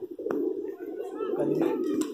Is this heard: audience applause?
no